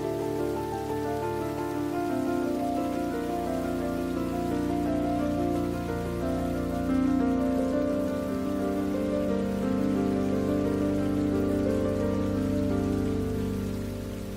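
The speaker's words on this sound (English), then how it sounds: "the monsoon arrives, bringing torrential rainfall that is critical for the lush tropical vegetation" Torrential monsoon rain drums steadily on a tropical forest, a dense, even roar of downpour that stays loud and unbroken throughout with a low rumbling undertone.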